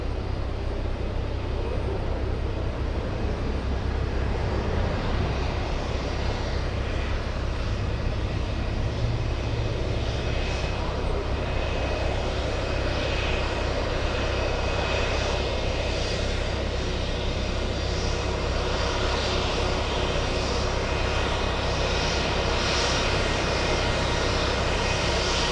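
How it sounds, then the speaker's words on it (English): Jet engines of a Spirit Airlines Airbus A320 on a Boston Logan taxiway, a loud, continuous engine drone with low rumble and a faint steady whine, unbroken throughout, with occasional voices in the background. "We have a lot of sound coming from Spirit Wings A320."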